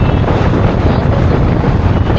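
Strong wind roaring across the microphone during a motorcycle ride in Hyderabad, a steady heavy rumble with no clear voices.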